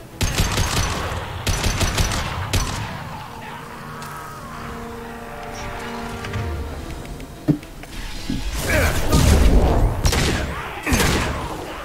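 Gunfire in the video game Mass Effect 2 comes as bursts of sharp, loud shots and booms, then a quieter stretch with tonal game sounds before a heavy, roaring barrage near the end.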